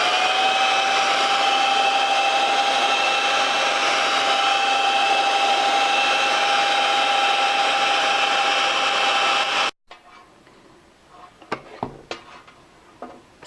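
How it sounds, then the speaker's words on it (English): Red velvet waffle batter is whisked steadily by hand in a bowl, a continuous dense scraping whir that runs loud for about ten seconds before stopping abruptly, leaving a few scattered clinks and knocks. "Now use your whisk."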